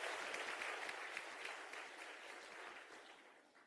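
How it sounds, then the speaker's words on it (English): Warm applause fills a hall at the closing ceremony of a national skills competition, a dense, even wash of many hands clapping at a distance that slowly tapers off. "You all deserve a very warm round of applause."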